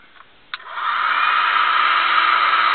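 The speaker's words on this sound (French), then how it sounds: "Allez, encore un coup de décapeur thermique dessus." A heat gun switches on after a faint click and blows a loud, steady stream of hot air onto a part being moulded, a constant close-up whoosh with no talking.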